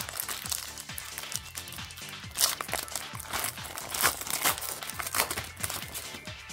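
Close, crisp crinkling and tearing of a foil Pokémon Lost Origin booster pack being opened, a dense run of crackly rustles with a few louder rips, alone without talk.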